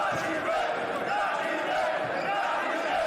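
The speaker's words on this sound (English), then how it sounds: "As the crowd chants Janibek, Janibek" Boxing arena crowd chanting the fighter's name Janibek during the Alimkhanuly vs Gualtieri bout, a steady, loud wall of massed voices filling the venue.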